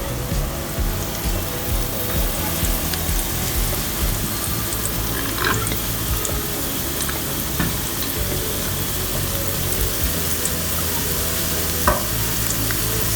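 Garlic plus thyme and oregano stirred into softened, translucent onions frying in a pan for minestrone soup, a steady close sizzle with scraping stirs and a few light clinks throughout, no talk.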